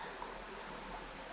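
A babbling brook trickles and rushes quietly in a continuous low wash of moving water, heard close by and alone.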